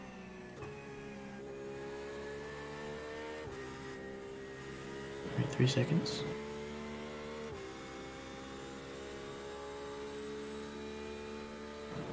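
Race car engines in the racing game iRacing, at Road America, drone steadily with sustained whine, a brief louder burst midway as cars pass, while someone speaks briefly.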